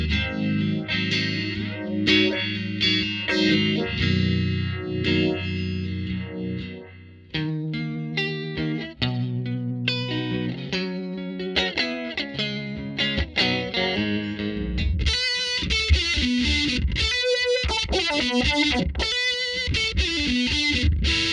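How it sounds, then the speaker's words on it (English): An electric guitar plays through an Electro-Harmonix Good Vibes chorus and vibrato pedal with photocells, giving warm, undulating, pulsing tones over chords and single-note lines that continue throughout. "Like the original Univibe, it uses photocells for chorus and vibrato for a warm and undulating pulse"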